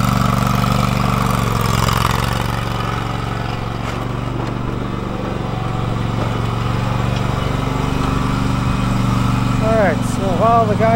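A lawn mower engine runs steadily nearby as a continuous low drone throughout, with a person talking over it.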